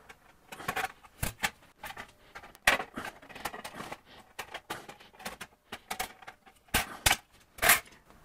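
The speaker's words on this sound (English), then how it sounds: "I'll use a pair of tin snips to make a roughing cut." Tin snips make a roughing cut into a copper disc as a series of sharp, close metallic snaps and crunches in irregular bursts, with brief pauses between the cuts and no talking.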